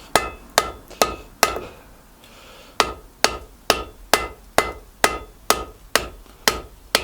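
Hot steel is hammered on an anvil while forging a medieval spear, a string of sharp ringing blows at an even pace, near and loud, broken by one short pause early on.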